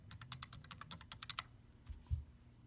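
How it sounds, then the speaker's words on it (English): A computer keyboard is typed on in a quick run of light, crisp clicks for about a second and a half, then a few scattered keystrokes follow. The typing is quiet and close. "we can find this by just typing in the ISBN number"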